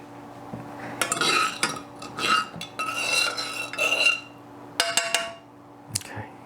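A spoon clinks and scrapes against a coffee cup while pumpkin spice creamer is stirred in, with bursts of quick rattling strokes separated by short pauses, close and fairly loud.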